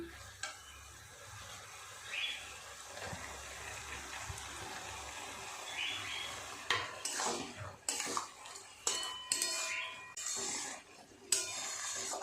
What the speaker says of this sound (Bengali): খুব ভালো করে মশলার সাথে মোচাটাকে এইভাবে একটু কষিয়ে নেব সময় নিয়ে